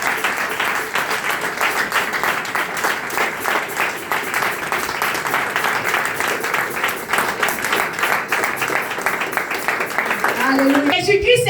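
A church congregation applauds and cheers steadily for the risen Jesus, a dense, loud wall of clapping with voices mixed in throughout, swelling slightly near the end as a tone enters.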